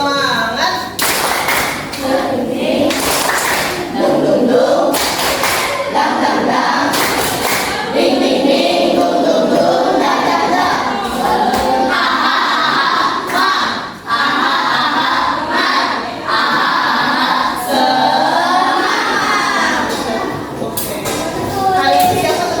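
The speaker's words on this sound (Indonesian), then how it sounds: "Tepuk semangat dulu deh." An Indonesian school class performs the tepuk semangat clapping chant, loud rhythmic group claps in patterned bursts mixed with children's chanting voices, sustained and close throughout.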